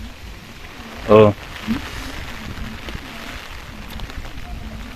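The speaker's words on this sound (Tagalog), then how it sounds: "ang lakas ng ulan mga kaibigan" Heavy rain pours steadily in a village setting, a constant broadband wash of falling water heard close, with a brief exclamation from a man partway through and faint voices underneath.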